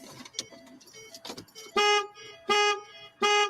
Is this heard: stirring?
no